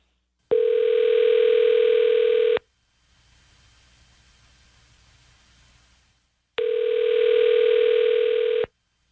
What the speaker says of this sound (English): Dialing now.